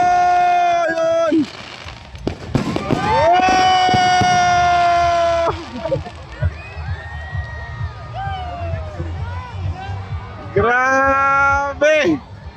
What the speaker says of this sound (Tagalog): kakatapos lang nga ng paputok. Anong paputok? Fireworks!